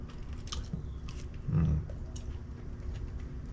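A person chewing food with soft, close munching and one louder crunchy bite, quiet against room hiss.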